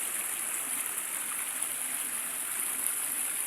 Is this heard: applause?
no